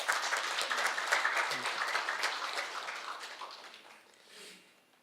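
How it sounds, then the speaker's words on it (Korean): Audience applause at a Monday service in a university temple hall, moderately loud at first and gradually thinning and fading toward the end, with faint voices murmuring underneath. "앞으로 잘하라고 박수 한번 보내주시죠"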